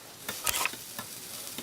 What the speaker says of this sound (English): Look at that sizzle. Did you hear that? Relax, it's just the grill.